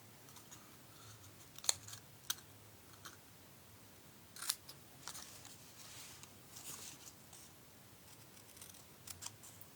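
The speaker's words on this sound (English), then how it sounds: "I'm just using my paper snips" Paper snips cut stamped paper in a quiet craft space, giving faint, sparse snipping clicks at irregular intervals over low background hiss.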